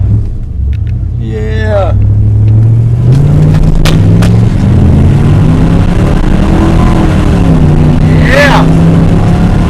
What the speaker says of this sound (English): Look at his burnout.